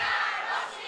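Opposition members in parliament chant slogans together, a brief burst of massed shouting voices that rings loud at first and then eases slightly.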